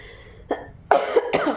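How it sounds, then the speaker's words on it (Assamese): A person with a lingering cough gives three short, dry coughs in quick succession, close and fairly loud, with no talking. "কোনো সময়ত সেই কাহটো আহে"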